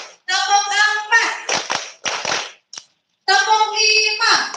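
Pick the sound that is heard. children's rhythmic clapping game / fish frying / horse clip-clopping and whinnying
children's rhythmic clapping game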